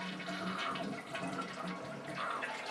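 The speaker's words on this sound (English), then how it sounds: "we flush the toilet" A household toilet flushing as water drains out of the tank, with the mains supply shut off: a steady rushing gurgle of water heard quietly, no talking.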